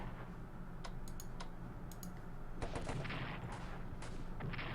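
Artillery fire in the World War I strategy game Strategic Command: World War I, heard as a scatter of sharp cracks followed by a dense, loud burst of booming blasts over a constant low rumble, with no voices.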